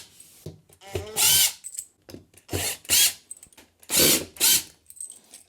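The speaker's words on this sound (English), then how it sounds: "you can use an electric screwdriver to take all of the cam bolts out." An electric screwdriver backs cam bolts out of a dismantled IKEA Pax wardrobe in several short, loud whirring bursts separated by pauses, with ratcheting clicks and light handling knocks between runs.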